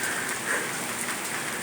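A steady, dense hiss of hail and rain pours down on a balcony during a spring storm, continuous and fairly loud throughout with no talking.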